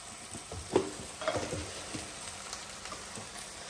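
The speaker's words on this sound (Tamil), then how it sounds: "சிக்கன் நல்லா வெந்துக்கிட்டு இருக்கு பயங்கரமா" Chicken frying in a pan with onion and tomato, a soft steady sizzle with a few stirring scrapes and clinks, fairly quiet and close.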